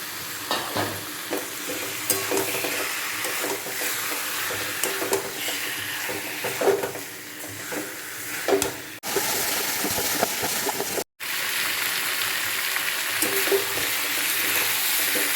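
Chicken pieces sauté in a pan with tomato, turmeric and chili powder, giving a continuous loud sizzle with frequent scraping and stirring knocks and a brief cutout partway through.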